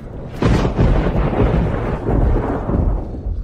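Thunder rolls in ahead of rain as a loud, continuous rumble that starts abruptly and keeps surging for about three seconds, with no voices over it.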